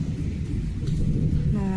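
Heavy rain pours steadily on an Indian house with an open central courtyard, a dense low rush with a brief rumble, and a voice speaking faintly underneath.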